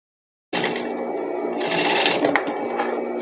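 A sewing machine runs in one quick close burst, stitching bias binding onto the waistband of a simple straight skirt; the loud steady whir starts abruptly after a short silence.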